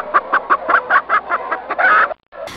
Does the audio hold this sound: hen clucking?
yes